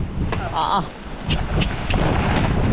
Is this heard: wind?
yes